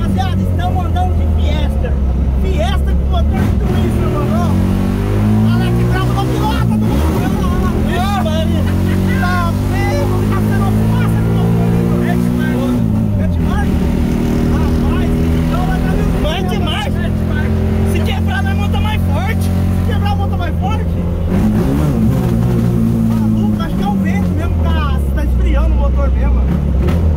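A Ford Fiesta fitted with a Twister engine revs and drones loudly throughout, its pitch climbing and dropping with gear changes, while voices talk over it.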